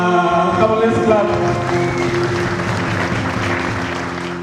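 Audience applause at a Kahawa Sukari Ward strategic plan launch in Kenya, a broad steady wash of clapping that follows the tail of a sung anthem and holds at a fairly even level before easing slightly.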